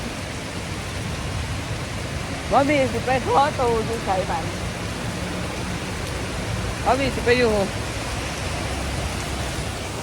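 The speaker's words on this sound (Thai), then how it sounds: "ฝนตกนี่น้อ" Steady rain falls outdoors as a constant hiss that fills the whole clip, with someone speaking over it in short bursts.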